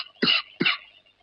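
Two quick, close coughs from a person in a dramatic Hindi film scene, each a sharp burst fading into a short rasp, with a brief pause between them and quiet after.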